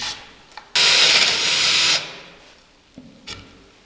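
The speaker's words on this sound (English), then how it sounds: "And drill a hole. 1/2 inch deep-ish." A power drill bores a roughly half-inch-deep hole into a wooden cabinet vertical for a Murphy bed, one steady loud whine lasting just over a second, followed by a few faint knocks and handling noises.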